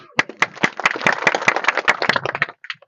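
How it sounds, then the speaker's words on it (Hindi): A crowd at a political gathering claps in a fairly rhythmic burst of sharp, distinct hand strikes for about two and a half seconds, ending with a few scattered claps. "ताली बजाओ"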